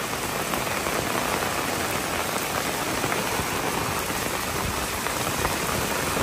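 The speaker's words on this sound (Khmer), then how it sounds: "ភ្លៀងធ្លាក់ខ្លាំង" Heavy rain pours steadily during a flood day in Battambang, Cambodia, a dense, loud, unbroken hiss of drops hammering surfaces with no voices.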